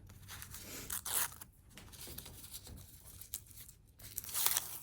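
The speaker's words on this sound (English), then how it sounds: "Remove the paper backing in the same way." Paper backing is peeled away from cooled, fused fabric appliqué pieces in a quiet room, giving a series of soft tearing and crinkling rips at close range, with short pauses between pulls.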